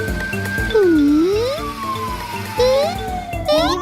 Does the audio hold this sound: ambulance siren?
yes